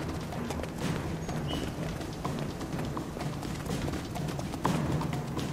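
Centaurs galloping in the Guild Wars 2 video game, a steady rapid clip-clop of hooves running close by throughout, with no talk over it.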